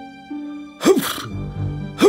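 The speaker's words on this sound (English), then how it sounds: "And he started sneezing immediately." A cartoon character in a children's bedtime story sneezes twice, sharp bursts separated by a short pause over soft background music.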